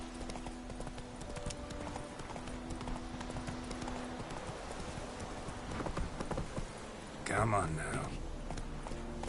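The horse Roach clip-clops at a walk in The Witcher 3, with repeated hoof strikes under game ambience, a brief louder burst near the end and someone speaking briefly.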